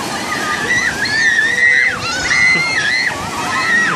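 Horses bathing in the ocean churn the water in continuous, close sloshing and splashing, with a wavering tonal sound riding over the watery wash throughout.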